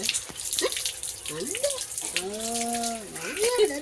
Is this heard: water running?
yes